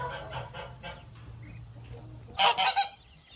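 Tame geese in a farmyard with goats honk in a few loud, close bursts near the end, after softer calls and a low steady hum earlier.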